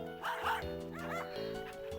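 Cartoonish dog barks and yips from a dog-care video game, two or three quick bow-wows over a steady musical background, fairly close and clear with no talking.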